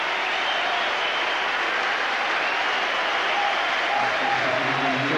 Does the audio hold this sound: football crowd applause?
yes